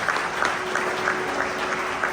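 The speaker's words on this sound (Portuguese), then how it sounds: "Você pode dar um aplauso ao Senhor?" A church congregation at a Nazarene conference applauding together, a dense, steady wash of many hands clapping without a break for a couple of seconds.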